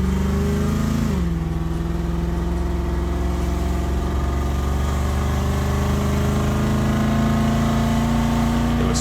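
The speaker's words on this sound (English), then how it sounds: "we finally started getting some RPM to it" A C4 Corvette engine runs loud and close with a steady droning rumble. After a short dip its pitch climbs gradually as the revs build.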